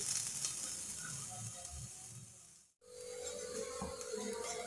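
Barnyard millet pesarattu dosa sizzling in oil under a lid, a steady close hiss that cuts out briefly midway, then resumes evenly to the end.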